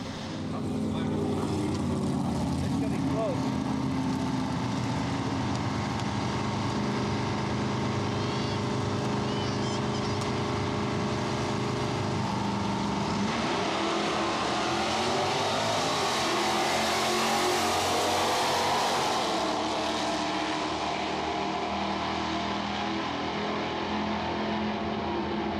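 A 1971 Pro Street Plymouth Duster makes a drag racing pass at a Mopar meet at Valley Dragway, its engine roaring loud and sustained, the pitch climbing through gear changes and swelling near the finish before easing off, with faint voices in the background.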